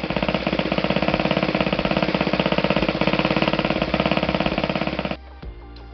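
A Saito FA-120S DP model aircraft glow engine runs on test, a loud, rapid, even stream of firing pulses close by for about five seconds before it abruptly cuts off and sputters to a stop.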